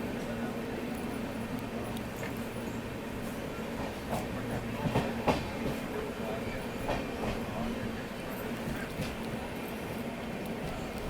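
Uday Superfast express running on rails near Samalkot junction, heard from inside the coach as a continuous moderate rumble with rattling and occasional clicks, steady throughout.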